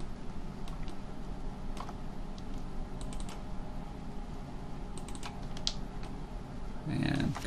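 Computer keyboard keys tapped during 3D spline modeling work, scattered light clicks and a few quick shortcut presses over a steady low background hum, ending with a slightly louder burst of activity.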